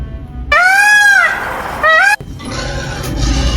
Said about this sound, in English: that's the sound of the peacock, the funny sound